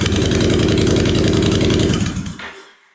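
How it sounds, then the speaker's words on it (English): A Honda Fury motorcycle idles with its exhaust removed, giving a loud, rough, pulsing drone close by, then cutting off abruptly and fading to silence. "For the vast minority of people who want to hear what a Fury sounds like with no exhaust on"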